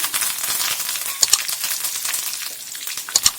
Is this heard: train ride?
no